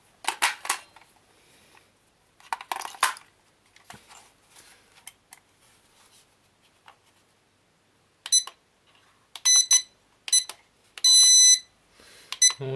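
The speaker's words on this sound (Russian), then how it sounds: "Звуковые сигналы присутствуют уже хорошо." Short electronic beep signals from a Mobicaro Oriolus quadcopter, several quick bright bursts in clusters near the end after quieter handling clicks, close and fairly loud.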